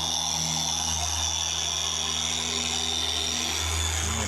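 An Adams Mini SK Pro 3-inch car polisher runs steadily with a smooth, constant high whine and a low hum, close and unbroken for the whole stretch, with no voices.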